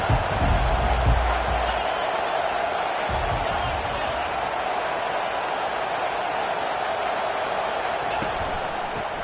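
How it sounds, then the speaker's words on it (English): A stadium crowd at a football game roars in a steady, dense wash of noise, louder at the start with a few bursts, and continues under the play. "This crowd trying to make life miserable for this offense."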